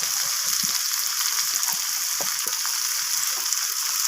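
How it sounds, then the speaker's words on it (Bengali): Chopped tomato and onion fry together in a pan, giving a steady, close, dense sizzle that holds evenly throughout with faint stirring underneath. No voices. "তো টমেটোটাকেও আমি পেঁয়াজের সাথে ভেজে নিচ্ছি।"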